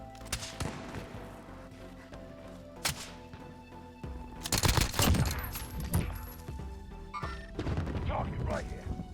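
Gunfire in Call of Duty: Warzone using Cold War weapons. Scattered shots and a heavy volley come through the middle, with thuds and impacts, while players talk over the action.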